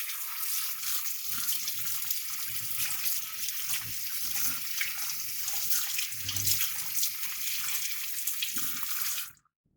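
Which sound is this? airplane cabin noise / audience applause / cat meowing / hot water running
hot water running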